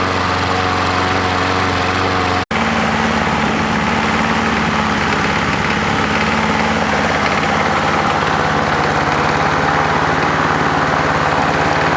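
An old Craftsman lawn mower engine runs steadily at low speed on stale gas, a loud continuous idling drone with a brief dropout near the start, then constant rumbling and vibration with no talking.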